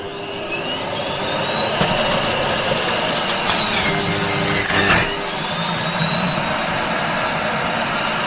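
Nutribullet 1000W Juicer Pro whirring on turbo while juicing oranges, a loud steady high-pitched motor whine with a brief dip and a clunk midway, no voices.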